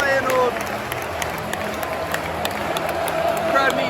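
Football crowd at a Feyenoord match in Rotterdam cheering after a Feyenoord goal, a broad, fairly distant roar with some clapping that stays steady throughout, and a voice talking over it.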